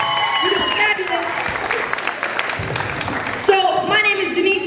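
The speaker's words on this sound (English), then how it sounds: "Make some noise for yourself. Clap it up." Audience clapping at a live poetry and percussion performance, a dense, steady patter of many hands lasting the whole stretch, with voices calling and cheering over it at the start and again near the end.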